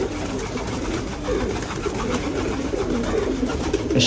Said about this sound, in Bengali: অনেক পুরান নাসেলের কবুতর এটা গাইস